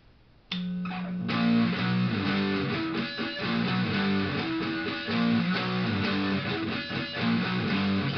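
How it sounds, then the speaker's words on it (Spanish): Electric guitar through a distortion pedal turned to maximum, a Boss Overdrive or Arion Metal Master, kicking in abruptly after a quiet start, then sustained, saturated chords and notes played loudly, no voices. "Ahora subiremos el distorsión al máximo."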